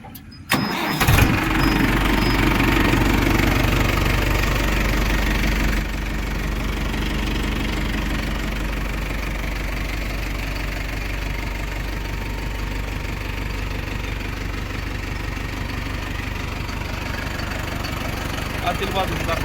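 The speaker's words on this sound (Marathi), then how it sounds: "आता ट्रॅक्टरची तुम्हाला फायरिंग दाखवतो." A 2023 tractor fitted with a Bosch pump cranks with a brief burst, then its diesel engine catches and settles into a loud, steady idle that runs on without a break.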